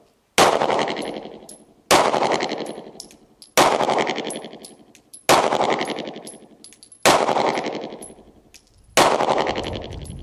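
Six loud handgun shots ring out one at a time, about a second and a half apart, each with a sharp crack and a long ringing decay at an outdoor live-fire CCW qualification range. Steel targets give faint metallic pings between shots.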